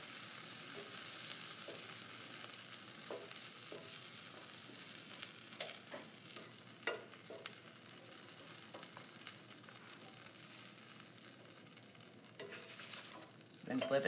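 Cheese toast bread frying in a pan, a soft steady sizzle with light scraping and stirring clicks scattered throughout, close and fairly quiet, with no voices.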